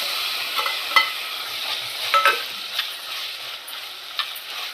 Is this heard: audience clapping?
no